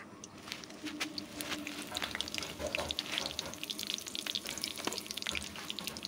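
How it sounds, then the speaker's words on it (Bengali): Dried red chillies and garlic paste fry in oil in a wok, a close, busy crackling sizzle with sharp spatters and pops throughout, fairly quiet and with no talking. "আবার একটা কড়াই বসিয়ে দিয়ে আমি দিয়ে দিচ্ছি পরিমাণ মতো তেল। ফোড়নে দিয়ে দিচ্ছি শুকনো লঙ্কা ও রসুন বাটা।"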